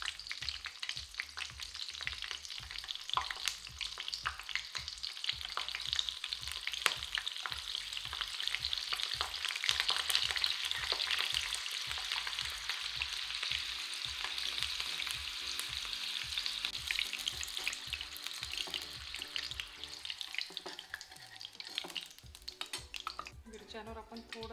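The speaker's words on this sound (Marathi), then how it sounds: "त्याच गरम तेलात आपण अशा मिरच्यांना उभे असे काप दिलेले आहेत, ते आपण मस्त डीप फ्राय करून घेऊ" Slit green chillies deep frying in hot oil, sizzling and crackling continuously and close with occasional stirring, and a voice speaking now and then.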